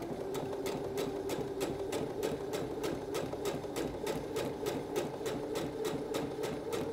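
A sewing machine stitches a blouse seam 5 mm from the edge, running forward without backstitching. The needle taps in a steady, rapid rhythm over a constant motor hum, close and continuous, with no voices.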